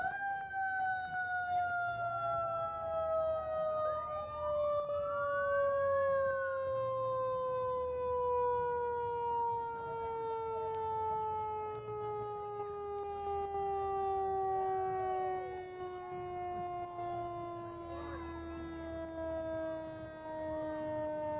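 Fire department trucks and first-responder vehicles in an Independence Day parade sound long, wailing sirens that rise and fall steadily, loud and continuous over the whole stretch, with a low engine rumble beneath.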